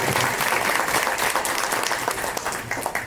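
Round of applause from an audience at a real-estate talk, dense clapping loud at the start and easing slightly toward the end.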